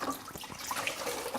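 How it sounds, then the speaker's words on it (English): Tap water runs steadily into a sink to dampen a T-shirt for tie-dyeing, a close, continuous splashy hiss over the whole moment. "So the first thing you need to do is just wet it in some water."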